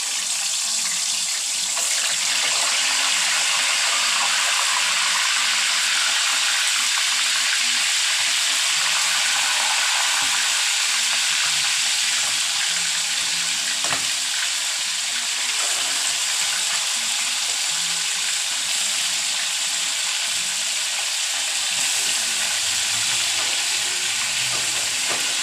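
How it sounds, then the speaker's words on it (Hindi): Chicken pieces frying in hot oil in a home kitchen for roasted chicken rice, a steady broadband sizzle and crackle running continuously and fairly loud throughout, with no talking. "अब मैं इसमें चिकन फ्राई कर लूँगी।"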